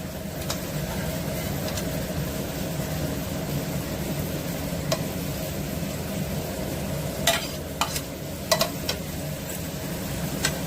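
Curry broth with ridge gourd simmering and bubbling in a pot after dried fish (shutki) is added, a steady low burble with a few sharp scrapes of stirring near the end.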